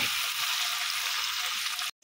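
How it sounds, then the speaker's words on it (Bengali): Potatoes and onions fry in a pan with a steady, soft, hissing sizzle that carries on evenly, then cuts off sharply near the end. "আলু দিয়ে পেঁয়াজ দিয়ে একটু ভেজে নিই।"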